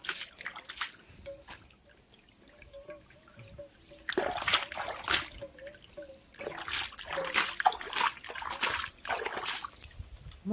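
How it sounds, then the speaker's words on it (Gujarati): Fresh borewell water trickles and splashes as hands and feet are washed outdoors on a cold, windy day, a thin steady drip first, then heavier bursts of splashing that come and go. "હાથ ને પગ ધોઈ નાખી."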